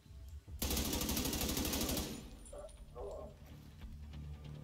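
Gunfire in the video game The Division 2: a loud rapid automatic burst lasting about a second and a half, followed by quieter game noise with faint voices in the background.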